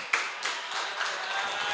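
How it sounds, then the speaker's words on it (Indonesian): Applause for a performer on a stage show breaks out suddenly and continues as a dense, steady clatter of many hands, with a host talking over it. "Tepuk tangan buat Yuno."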